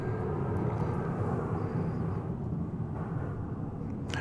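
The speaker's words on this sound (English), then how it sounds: "This is American Flight 2759 off to San Antonio, Texas, 737-800" An American Airlines Boeing 737-800 jet taking off from DFW Airport in the morning produces a steady, rumbling engine roar that eases slightly toward the end, with no voices over it.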